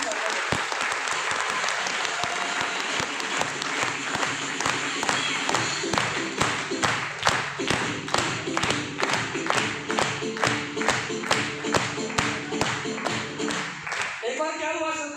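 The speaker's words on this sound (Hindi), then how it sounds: "तो ताली बजा के बताइए कि सुनना चाहते हैं।" An audience at a talk claps steadily in unison, with sharp, loud, evenly spaced beats repeating for about fourteen seconds. Faint voices murmur beneath the claps before the clapping stops at the end.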